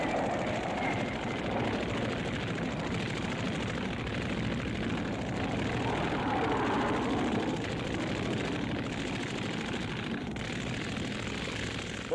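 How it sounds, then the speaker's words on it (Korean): Jet fighter aircraft in an aerial dogfight during the Korean War, heard as a loud, continuous engine roar and rushing noise that holds steady throughout with no voices. "제트와 제트 사이에 숨막히는 사상 초유의 제트기 공중전이 벌어졌다"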